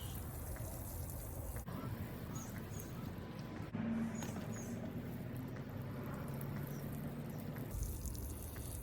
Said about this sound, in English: now let's give it a little bit of water